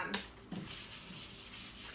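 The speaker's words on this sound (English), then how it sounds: "I just go over the piece with the sanding pad" A sanding pad rubs back and forth over wood in steady, close strokes, a soft rhythmic scraping with no talking.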